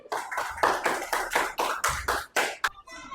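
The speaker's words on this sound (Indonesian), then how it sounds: "Tepuk tangan." A short burst of applause from a small group, quick rhythmic claps for about three seconds before stopping abruptly.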